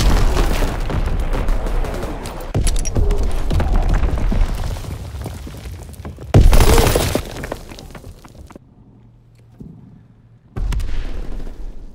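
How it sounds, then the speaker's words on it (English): A Fritz X guided bomb detonating in Call of Duty, a sudden loud blast cutting through ongoing battle rumble and scattered shots, followed by a quieter lull and another burst of noise. "Dropping Fritz X bomb."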